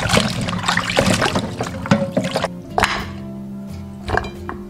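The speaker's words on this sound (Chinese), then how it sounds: "然后捞起来一起过凉水，过凉水的目的可以让猪蹄的皮更 Q 弹。 再把猪蹄清洗干净。" Pig trotters rinsed in cold water, with splashing, trickling and knocking of the pieces in a bowl in irregular close bursts, quieter spells between.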